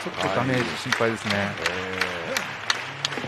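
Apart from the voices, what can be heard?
crowd clapping hands at a pro wrestling match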